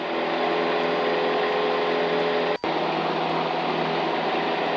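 Cessna 172M single-engine aircraft at full power in a steady climb near 2,500 RPM: a loud, constant droning roar with a steady propeller hum, unbroken except for a momentary dropout midway.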